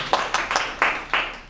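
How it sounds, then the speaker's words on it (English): Several quick claps from an audience at a talk, short and close together, fading after about a second and a half. "I think you deserve a round of applause."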